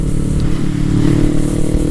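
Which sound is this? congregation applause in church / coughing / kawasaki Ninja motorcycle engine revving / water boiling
kawasaki Ninja motorcycle engine revving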